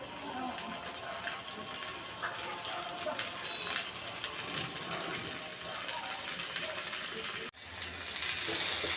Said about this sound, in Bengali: উল্টিয়ে পাল্টিয়ে পোড়া পোড়া করে ভেজে নিচ্ছি